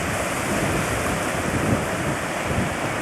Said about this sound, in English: Hear the waves in the background.